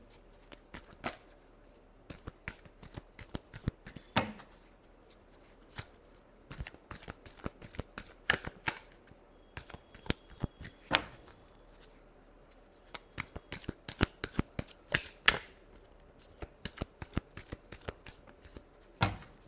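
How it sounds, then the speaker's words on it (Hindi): Tarot cards being shuffled by hand: quiet, irregular bursts of crisp riffling and flicking taps that come in close clusters and short pauses, with no voice over them. "Last shuffle."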